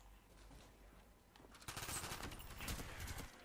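A minigun firing in Call of Duty: Black Ops, with faint scattered noise and then a dense, continuous rattling burst from about halfway through, fairly quiet overall.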